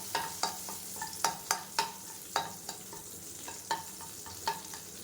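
Green chillies and garlic frying in a pan while being roasted, with a steady soft sizzle broken by repeated sharp scraping strokes of a spatula stirring the pan, close and clear with no talking.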